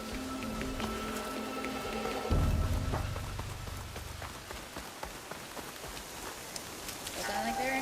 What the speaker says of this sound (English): No escaping this rain.